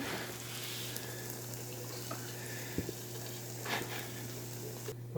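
Chaffle batter sizzles inside a chaffle maker, a low, steady hiss with a constant hum underneath, broken by a few faint clicks and small knocks.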